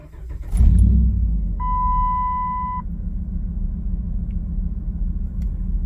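A 2007 Dodge Ram 1500 HEMI pickup cranks and fires, settling into a steady, close idle rumble, while a dashboard chime sounds a single sustained tone for about a second.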